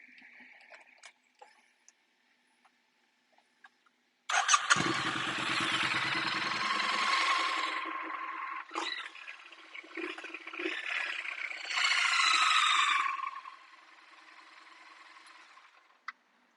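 A Triumph Bonneville motorcycle with aftermarket exhausts starts up after a quiet stretch, then settles into a deep, throaty idle. A couple of blips and a louder rev swell follow before it dies down, heard fairly close.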